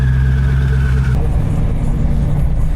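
Carbon-bodied Mosler MT900S with a twin-turbo LS7 V8 idles close by in a loud, steady low rumble, a whine fading out partway through as the engine settles into a rougher burble.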